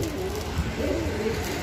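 Low, soft cooing from Amritsari and Punjabi pigeons at a pigeon sale shop rolls along steadily, close by, over a constant hum of background noise.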